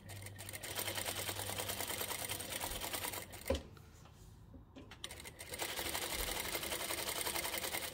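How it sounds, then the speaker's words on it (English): A sewing machine stitches a quarter-inch seam on a fabric oven mitt in fast, even runs, stopping briefly in the middle with a small clunk and then starting up again. "we're just going to do a 1/4 inch seam and backstitch and continue to the end"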